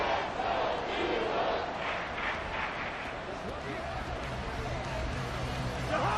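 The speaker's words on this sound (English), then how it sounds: "the crowd getting into it as we come up on a big 3rd down" A stadium crowd roars and cheers in a Madden 24 football game between the Eagles and Vikings, a dense, sustained wall of noise that swells late in the fourth quarter ahead of a big third down.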